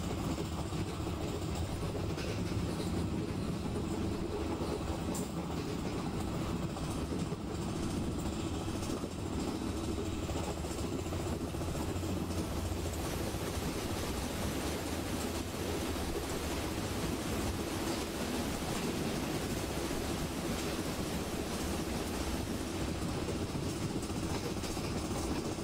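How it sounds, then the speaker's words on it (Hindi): An oncoming double-decker express passes in an Indian railway train simulator game, a steady loud rumble of rolling wagons with rhythmic clickety-clack running unbroken for the whole stretch. "सामने से एक और ट्रेन आ रही है गाइस।"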